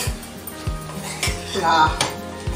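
A spoon scrapes and knocks rhythmically against a pan as biryani masala and other ingredients are stirred together, with a soft sizzle underneath and a few metallic clinks.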